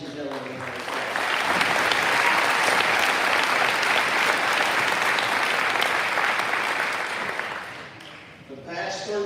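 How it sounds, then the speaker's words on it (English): A graduation audience claps for board members at a high school commencement, a broad, sustained wave of applause that swells quickly, holds loud for several seconds, then thins out as a voice returns at the end. "Let's give these ladies and gentlemen a round of applause."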